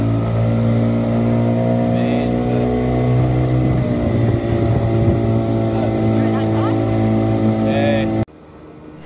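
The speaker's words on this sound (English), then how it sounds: "Sheridan, what's it like steering a decent boat? A good boat? A big boat? A powerful boat?" A steady motorboat engine drones loudly throughout, with a voice talking over it, then cuts off abruptly near the end.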